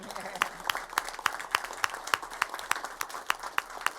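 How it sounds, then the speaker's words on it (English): An audience at a Detroit police department event applauds after a vote on officer raises: moderately loud, scattered clapping with distinct sharp claps, sustained throughout. "I think that deserves an applause."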